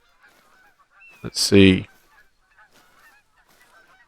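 A goose honks once, loud and close, in the hunting video game Hunter: Call of the Wild, set in Germany, with a brief spoken phrase and quiet game ambience around it.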